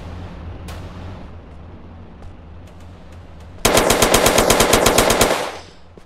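Rapid automatic gunfire from enemies in Grand Theft Auto, a loud sustained burst of machine-gun shots lasting under two seconds after a quieter stretch with a few isolated distant shots.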